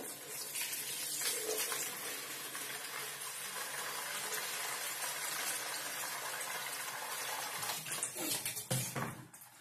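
Water pours and splashes steadily while sardines are cleaned and prepared for grilled sardine kofta, a continuous close gushing sound with a few clatters near the end.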